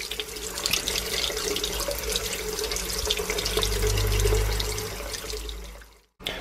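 Tap water runs steadily into a sink while a fountain pen is rinsed clean of stubborn ink, a close, continuous splashing rush that builds slightly before the flow cuts off abruptly near the end.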